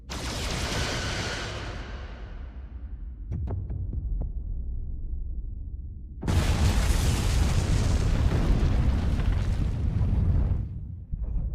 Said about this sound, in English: Firing photon torpedoes.